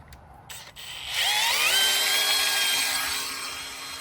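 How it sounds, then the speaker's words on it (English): A power drill spins up fast after a couple of short clicks and runs at high speed, its loud whine rising in pitch and then holding steady before easing slightly, close to the mic with no talking. "If I were to go in that other speed by changing the direction of the drill,"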